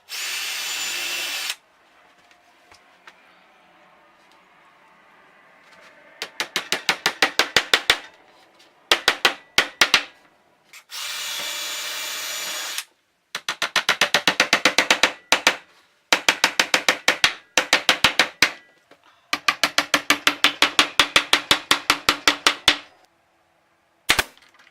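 A nail gun drives nails through pallet wood wall paneling into studs, firing in fast, loud rapid-fire bursts, with steady hissing pauses between runs and no talking.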